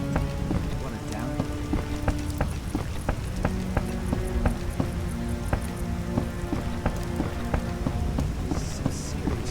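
Steady heavy rain patters across surfaces throughout in the video game The Witcher, with tonal electronic music and faint effects layered over it.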